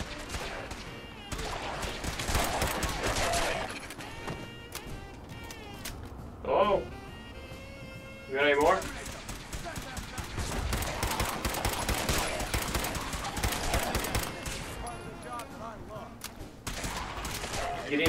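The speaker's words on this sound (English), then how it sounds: "Gunfire! I like gunfire." Gunfire in a zombie video game, with dense bursts of shots and rattling automatic fire through much of the stretch, fairly faint and busy, and a couple of sharper louder cracks.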